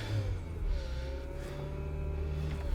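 From inside a 1999 Ford Fiesta with a cold-stalling fault, the engine runs at a steady low drone while driving, a constant mid-pitched hum with slight rises in revs and no voices over it.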